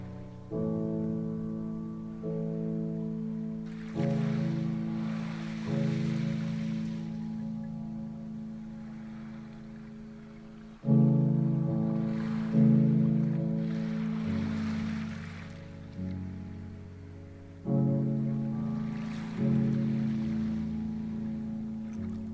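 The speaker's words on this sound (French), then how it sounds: "le bruit des vagues apaise votre esprit." Soft swells of surf wash in and recede a few times on a fine-sand beach beneath gentle, sustained meditation music, with no voices.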